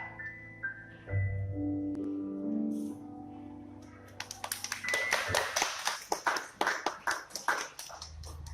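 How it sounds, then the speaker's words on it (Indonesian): Sustained musical tones fade out and then a school discussion audience breaks into applause, the claps crisp and close, starting unevenly and building into a steady, fairly loud rhythm for several seconds. "tepuk tangan sekali lagi untuk Ananda Maisi Biasari"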